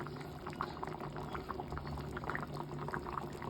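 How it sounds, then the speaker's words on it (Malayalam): Thick anchovy fish curry in a hot pan keeps bubbling after the heat is switched off, giving a soft, steady stream of small pops and gurgles heard close up without talk. "തീയൊക്കെ ഓഫ് ചെയ്തു കട്ടി ആയതുകൊണ്ടാണ് ഇങ്ങനെ തിളച്ചുകൊണ്ടിരിക്കുന്നത്"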